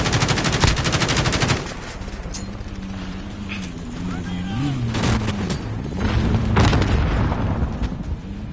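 Rapid automatic gunfire from a 100-round magazine in Call of Duty Modern Warfare, a long dense burst up front, then scattered shots and another heavy burst later, with someone talking over it in between.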